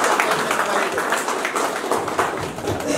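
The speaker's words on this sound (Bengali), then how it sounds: "তার জন্য একবার হাততালি দিন" Audience applause at a grand inauguration celebration, a dense steady wash of many hands clapping close and loud throughout.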